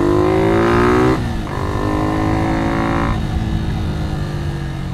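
Yamaha Vixion motorcycle with an old-style Japan build and a 10 cm extended front tyre, its engine revving hard and close, pitch rising then dropping back to a steady lower drone as the throttle eases, with no talk.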